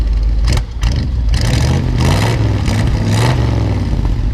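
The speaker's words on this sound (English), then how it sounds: "Go ahead and rev it up a little bit, Nolan." A 1975 Ford F250 Camper Special pickup engine revs up in repeated bursts, loud and close, with a brief drop between throttle blips and a steady rumble underneath.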